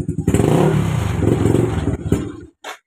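Kawasaki Fury 125 motorcycle engine revved up hard, with a loud rough rattling roar that cuts out and stalls after about two seconds, followed by a brief sputter.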